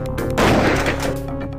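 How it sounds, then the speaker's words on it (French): A single booming gunshot in the retro video game Bermuda Syndrome, loud and close with a short rolling tail that fades within about a second. "Effrayer d'un coup de feu un troupeau d'herbivores."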